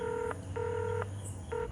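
Three short phone dialing tones beep in sequence, quiet and clean, with a low hum underneath.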